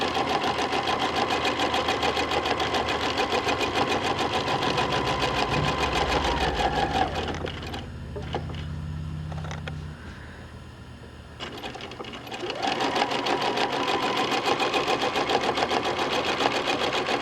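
A sewing machine running at speed for free motion quilting of wavy lines on a log cabin block, a steady rapid needle hammering that pauses briefly midway, then resumes just as loud.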